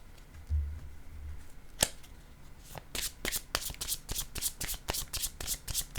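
Tarot cards are shuffled and drawn by hand, starting with a soft rustle and one sharp snap, then a quick run of crisp riffling flicks, close and fairly quiet.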